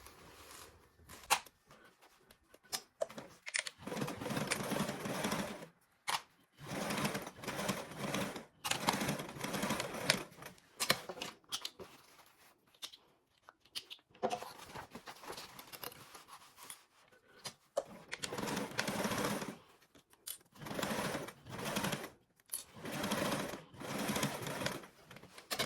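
A sewing machine stitches charm quilt pieces with a 3/8 seam allowance, running in repeated bursts of rapid whirring stitching separated by short pauses over about twenty-five seconds, close and with no talk.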